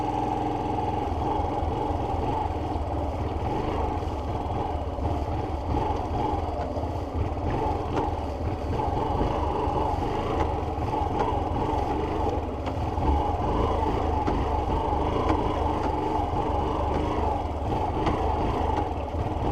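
A motorcycle engine idles and burbles steadily at close range during slow race training, a continuous low rumble with slight variations throughout about twenty seconds.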